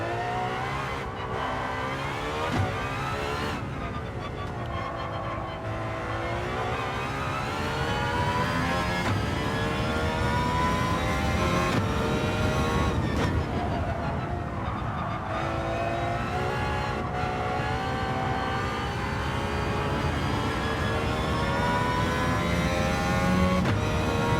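An Aston Martin Valkyrie in Gran Turismo 7 screams through a test drive. The engine note revs high, drops sharply at each gear change and surges again, with brief tyre squeals, loud and continuous throughout.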